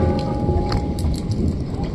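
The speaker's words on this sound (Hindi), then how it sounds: "देख सकते हैं ओले ओले हो रहे बिल्कुल" Dense, steady patter of hail drumming on surfaces during a violent storm, with a low rumbling roar underneath and occasional sharper hits.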